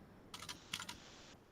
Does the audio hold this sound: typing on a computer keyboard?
yes